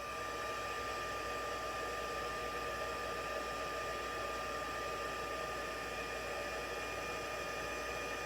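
Embossing heat tool melting gold embossing powder, a steady blowing hum with an even airy hiss that holds at a constant moderate level throughout, with no speech.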